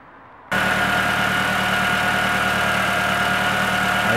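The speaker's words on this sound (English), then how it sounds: "What we're going to do is manually energize this to run the air pump and check for leaks." A 2004 Volkswagen Jetta 1.8L secondary air pump switches on abruptly and runs as a steady, loud mechanical drone with a constant hum and buzz, close by and without talk.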